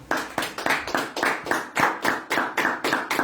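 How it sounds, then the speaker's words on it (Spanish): Worshippers applaud the Lord in a church service, about a dozen sharp, evenly spaced unison claps in a steady beat, close and fairly loud. "Es un aplauso, Señor"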